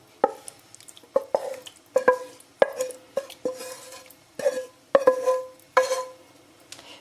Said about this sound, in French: je vais venir ajouter mes champignons à la crème dans mon riz